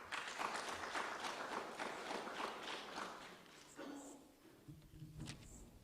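A conference audience gives Dr. Onyuma a round of applause, a soft, dense patter of clapping that carries for several seconds before thinning out and fading into room noise.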